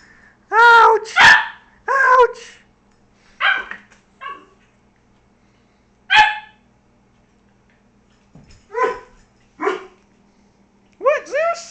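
Two dogs, a puppy and a larger dog, bark and yip in short bursts while playing, with loud, close barks spread across the clip and a few softer whimpering sounds between them.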